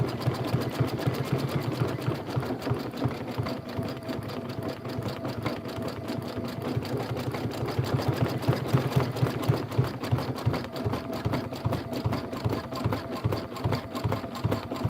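An embroidery machine stitching a Kimberbell bunny-trail block with YLI thread, a close, continuous rapid needle chatter with a steady pulsing rhythm that runs on unbroken.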